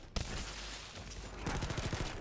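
Rapid SMG gunfire from the shooter game The First Descendant, a sustained, dense stream of shots that pauses briefly near the start and then resumes with a stronger burst.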